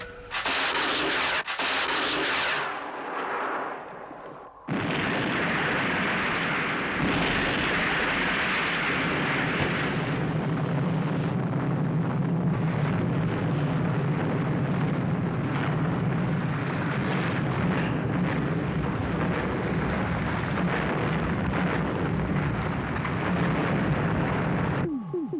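Thunderbird 4 fires missiles from the mobile control area, producing a sharp burst that opens into a loud, sustained roaring rumble of explosions lasting many seconds, broad and dense with no talk over it.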